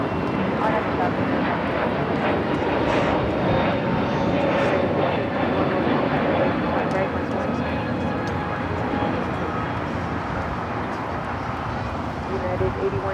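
A JetBlue airliner takes off from runway 25 right at LAX, its jet engines a loud, sustained roar that stays strong throughout and fades only slightly toward the end, with radio chatter audible underneath.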